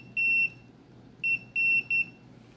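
Fluke 325 clamp meter beeping on continuity across a relay's closed contact: four clear, steady electronic beeps, one long, a pause, then three more in quick succession, with no talking.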